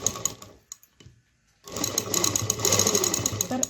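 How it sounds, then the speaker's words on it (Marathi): A domestic sewing machine runs zigzag darning stitches on torn cloth, rattling in short bursts, pausing briefly, then running fast and continuously up close; a person talks over it. "तर आता आपल्याला आडवी झिगझॅग शिलाई करायची आहे."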